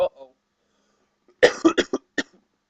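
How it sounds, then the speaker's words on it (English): A short burst of coughing, several quick harsh coughs in a row, close and loud after a brief sound at the start. "forgive me on the coughing once again"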